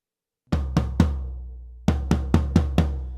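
An original recorded drum track plays sharp, close hits at uneven loudness: three quick strikes, a short pause, then five more in a steady run, each ringing out briefly.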